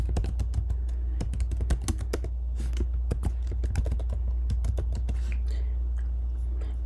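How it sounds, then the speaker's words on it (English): Rapid keystrokes on a computer keyboard come in an irregular, steady stream, crisp and close, as an email and name are entered into an online application form, with no speech. "So in this case, I would simply type the Fred Effect."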